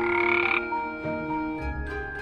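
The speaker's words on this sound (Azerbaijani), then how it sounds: "qurbağa ilk öncə qorxub suda gizləndi" Frog croaks ring out loud and close, a steady rasping call that eases into lower, rougher croaks and carries on without any talk over it.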